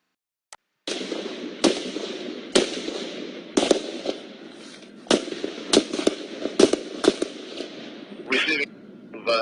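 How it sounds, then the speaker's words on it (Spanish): Gunfire in news footage of the Alexandria shooting: a series of sharp, echoing cracks in irregular bursts, some in quick succession, over a noisy, reverberant background. "I still got shots being fired."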